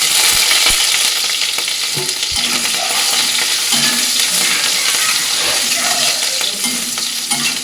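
Whole garam masala and bay leaves fry in oil with a loud continuous sizzle, overlaid by repeated clinks and scrapes of a spatula stirring against the pan.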